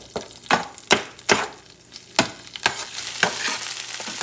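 Mexican chorizo cooks in a pan with a continuous sizzle, punctuated by about half a dozen loud, distinct scraping strokes of a spoon or spatula, close up and without voices.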